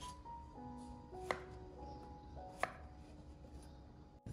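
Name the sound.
knife chopping straw mushrooms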